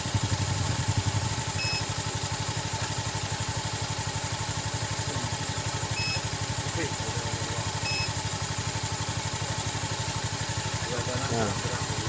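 A Honda Beat FI motorcycle engine idles steadily during an exhaust emission check with a gas analyzer at a tune-up, giving a constant close putter with little change in pace.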